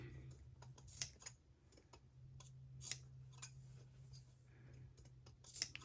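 Scissors snip notches into plush fabric in a quiet room, a string of soft irregular clicks and short cuts, faint and close, with a steady low hum underneath.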